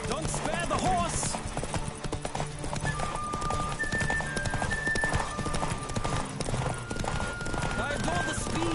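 Horse hooves clip-clop at a gallop in The Witcher 3 video game, a steady loud rhythm under game music, with an occasional whinny and a voice talking over it.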